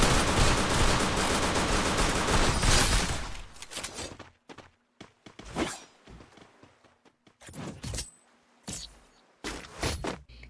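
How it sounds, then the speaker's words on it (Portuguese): Sustained burst of rapid game gunfire at first, then scattered single shots and short bursts separated by silence. "tinha uma galera atirando"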